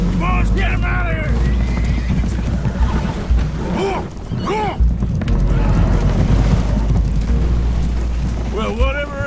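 Agitated spooked horses neigh and whinny repeatedly over a heavy, rumbling wash of water and creaking as a boat takes on water in Red Dead Redemption 2, with shrill calls rising throughout.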